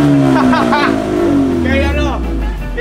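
A car exhaust revs and drones loudly and close by, the pitch falling and then rising again. Voices talk over it throughout.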